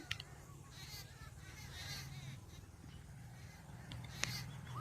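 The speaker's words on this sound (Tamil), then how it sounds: "இந்த பறவைகளோட சத்தத்தெல்லாம் நீங்கள் கண்டிப்பாக கேட்டிருப்பீங்கன்னு நினைக்கிறாங்க" Crows cawing repeatedly at a distance over a low background hum, calls spaced irregularly and fairly faint.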